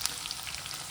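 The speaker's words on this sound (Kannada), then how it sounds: "ಹೀಗೆ ಚಟಪಟ ಅನ್ನಬೇಕು ಕರ್ಬೇವಿನ ಸೊಪ್ಪು" Curry leaves crackle in hot oil for poha, a brief dense sizzle with fine spattering pops, close and steady.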